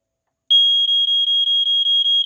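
First Alert SA130 smoke detector with escape light, set off by its test button, sounding a loud, piercing high-pitched alarm in a rapid pulsing pattern of about nine close beeps after a brief silence.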